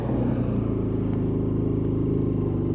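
A WK Scrambler 125cc motorcycle pulls away in third gear, its engine giving a close, steady, low rumbling drone throughout with no speech.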